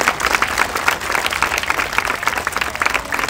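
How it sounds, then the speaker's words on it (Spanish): Loud, dense applause from a crowd at a live clown comedy show in Mexico, a continuous wash of clapping sustained throughout with no pauses. "Regale un fuerte aplauso para los tres."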